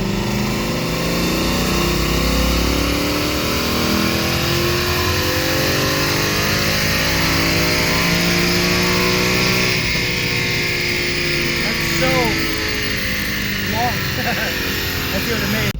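Stock 2018 Ford Mustang engine on a dyno during a full pull: loud, steady roar that builds continuously for about fifteen seconds, with a rising whine and faint voices beneath it.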